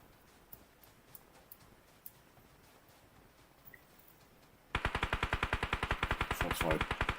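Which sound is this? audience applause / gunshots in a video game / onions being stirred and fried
gunshots in a video game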